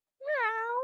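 A single clear cat meow, close and fairly soft, rising briefly then trailing off after a short silence.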